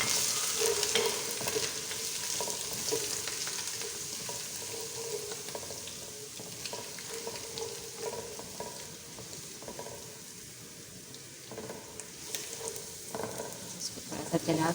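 Garlic, ginger, black pepper, cloves and cumin sizzle in hot oil for chicken pulao, a continuous close crackling hiss with occasional stirring clicks and scrapes.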